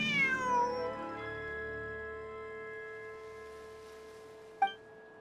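Cat in the video game Genshin Impact giving a drawn-out, tonal meow that sinks and then holds steady for several seconds, followed by a short bright chime-like blip near the end; no talking.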